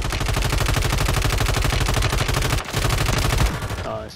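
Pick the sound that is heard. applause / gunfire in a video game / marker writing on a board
gunfire in a video game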